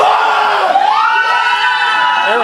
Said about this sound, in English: Aaron Stone has got this crowd fired up